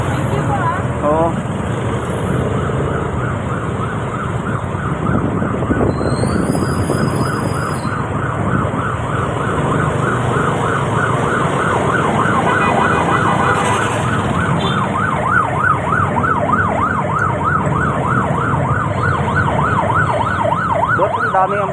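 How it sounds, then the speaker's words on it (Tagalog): Several ambulance sirens wail continuously in passing road traffic, a steady rising-and-falling tone over the constant rumble of vehicles, loud throughout, with people talking nearby. "Daming ambulansya, mo."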